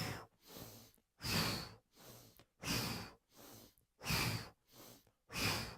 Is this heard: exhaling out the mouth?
yes